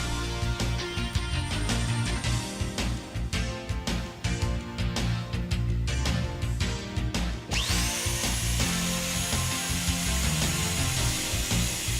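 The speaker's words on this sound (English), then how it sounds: "On completion of the machine cycle, the material is released and can be taken out of the machine." A PP 2 NC routing and drilling machine runs its cycle on wood profile, giving a steady mechanical whir with repeated bursts of cutting and drilling, ending in a sustained high-pitched spin-down whine.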